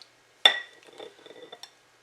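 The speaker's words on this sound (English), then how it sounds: "Now we're just going to mix this until the ice cream dissolves" A utensil clinks sharply against a bowl while ice cream is being mixed, followed by softer scraping and stirring and one more light clink, close and clear with no talking.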